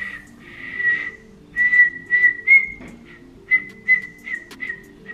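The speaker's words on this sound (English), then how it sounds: "I'm just now learning how to whistle." A person practising to whistle produces a string of short, breathy tonal notes, some held briefly, others clipped, with uneven pauses between them, close and moderately loud with no talking.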